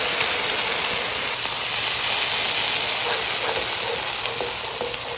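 A paste of ground cashews and onion hitting hot oil in a pan for chicken changezi, giving a loud, steady hiss and crackle of frying with no voices over it.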